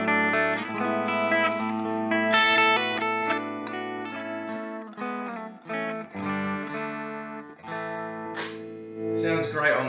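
Electric guitar played through a Helix modeler on a driven, mildly distorted patch, ringing chords and single notes sustaining with some reverb, loud and close with no talking.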